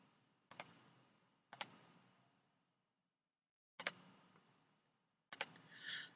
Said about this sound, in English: I just move the mouse to the circle, click on a circle, bring the dimension out and click